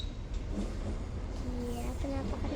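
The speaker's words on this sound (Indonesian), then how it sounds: "Dan lihat tuh keretanya tuh guys." A long train rumbling past at a rail crossing, a steady low roar with wheel clatter, heard under close chatter and voices.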